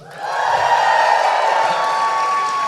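A studio audience cheers and whoops loudly, rising quickly into a sustained, dense roar of crowd voices that holds steady throughout.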